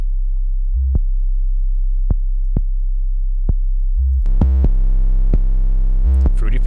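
A clean 808 bass with no distortion plays deep, sustained sine-like booms with sparse clicks, then a denser run of harmonically rich notes near the end, loud and dry with no other sounds.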